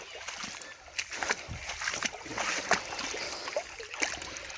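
Creek water sloshes and splashes in irregular bursts as a gold pan is swirled through it in Anderson Creek at Warrandyte, close and uneven.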